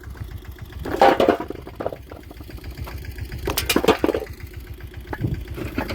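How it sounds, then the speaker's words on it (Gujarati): A tractor engine runs on a farm where a well is being dug through hard rock, chugging in a steady low rhythm with occasional louder knocks and clatters nearby. "ટ્રેક્ટર બંધ કરવાનું થતું જ નથી."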